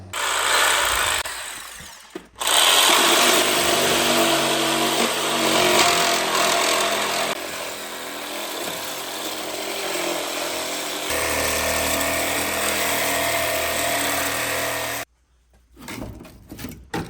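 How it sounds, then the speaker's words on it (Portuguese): A reciprocating saw cuts loudly into a V8 engine block in bursts, its harsh buzzing grind running for long stretches with brief pauses between cuts, close and without talk. "Comecei cortando com a serra sabre"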